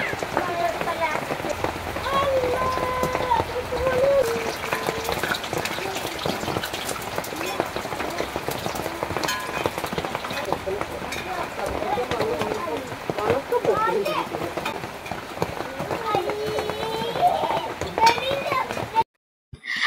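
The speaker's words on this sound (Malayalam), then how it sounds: "നമ്മുടെ ആ ഷീറ്റുമ്പോൾ ഇങ്ങനെ മഴത്തുള്ളികൾ വീഴുമ്പോള്ള സൗണ്ടാണത്" Rain patters steadily on a metal roof sheet in a dense, continuous drumming, with voices and household sounds mixed in throughout.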